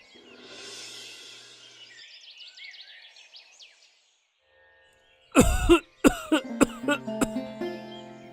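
A man in a Hindi story drama coughs in a loud, harsh burst of several hacking coughs that taper into smaller throat-clearing coughs, following a quiet stretch with faint bird chirps in the background.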